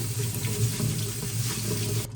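Steady running tap water splashing into a sink, continuous and close, with faint shifting splashes as something is rinsed underneath.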